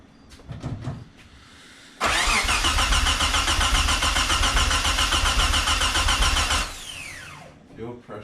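A car engine, a 500 hp VR4, cranks steadily for several seconds with a rapid, rhythmic churn, then stops without catching for lack of fuel pressure; brief speech and clatter come before and after.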